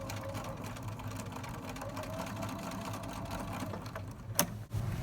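A sewing machine runs steadily while back-stitching loops on a drawstring backpack, a close, quiet whirring hum with rapid needle ticking and a brief clack near the end.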